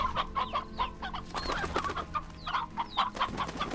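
Chicks in the video game Slime Rancher cluck and peep in quick repeated bursts, a busy flock of fowl calls close by with no talking.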